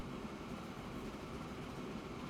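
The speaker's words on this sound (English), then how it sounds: "Here's the timber train." Timber train arriving in Transport Fever 2, a continuous low rumble of rolling rail cars holding at an even level for the whole stretch, with no talking.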